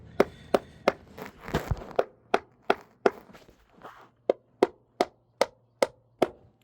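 A DeWalt hammer drives fasteners while siding J-block is fastened to an exterior wall, a series of sharp evenly spaced whacks at close range with a brief scuffle partway through.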